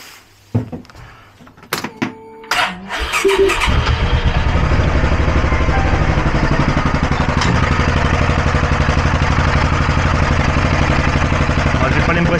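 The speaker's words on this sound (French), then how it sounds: "maintenant je vais démarrer le moteur pour essayer d'écouter si ça frotte sur le cache" A few clunks and a starter crank, then a Polaris RZR 570 side-by-side engine catches and settles into a steady, loud, throbbing idle that runs to the end.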